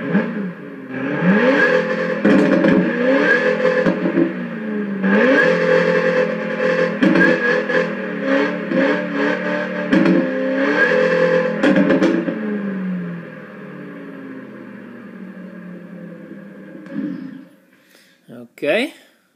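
Synthesized engine sound from a Sturmkind DR!FT racer toy car on a 550 PS setup, revving repeatedly up and down in loud, rising and falling whines with gear-shift dips, then fading out near the end.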